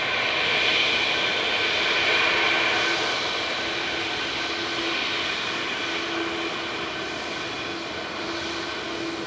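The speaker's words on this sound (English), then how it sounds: "Qatar heading back to Doha with flight 22. A7BHP is a 787-9 Dreamliner, 4-year-old aircraft." A Qatar Airways Boeing 787-9 Dreamliner, a four-year-old aircraft, departs Manchester Airport for Doha, its engines giving a steady, broad jet roar that holds fairly constant and fades slightly over the clip, with no talk.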